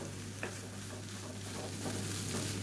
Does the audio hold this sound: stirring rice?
yes